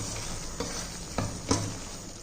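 A ground gravy mixture sautés in a pan with a steady close sizzle, broken by three short scraping stirs.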